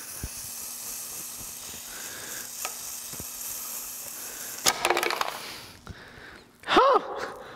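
A 1,000-degree heated knife pressed into frozen butter at minus 100 degrees, a faint hissing sizzle with light clicks, then sharper crackling bursts, a brief exclamation from a person.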